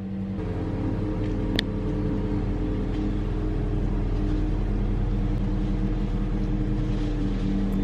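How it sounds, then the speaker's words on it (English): A car engine idles steadily and close by after starting, a constant low hum with even harmonic tones and one brief sharp click early on, and no voices over it. "let's go ahead and turn the car on"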